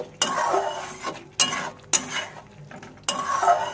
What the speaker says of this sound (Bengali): এবারে ডিমগুলো দিয়ে দেবো মাখিয়ে নিয়ে